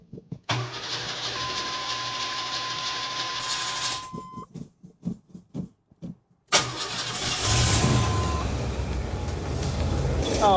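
A carbureted car engine cranks, sputters through several choppy attempts, then catches and settles into a loud, rough running rumble.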